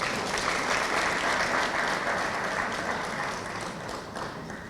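Sustained audience applause at an anti-corruption conference following a speech, a dense wash of many hands clapping that holds steady and fades slightly toward the end, heard alone without talk.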